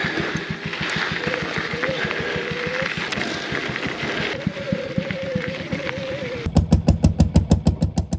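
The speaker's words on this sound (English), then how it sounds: "that's the noise of a diesel motor that's powering an oil pump up at the top of the hill" A diesel motor powering an oil pump on a hilltop chugs in a steady, even rhythm under wind noise, then shifts to heavier, more pronounced pulses near the end.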